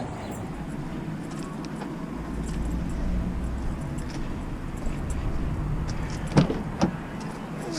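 A 2017 Ford Mustang with an X-pipe and Flowmaster American Thunder exhaust, resonators deleted, drones steadily at low pitch while cruising, heard from inside the cabin, with a couple of brief knocks or clicks near the end.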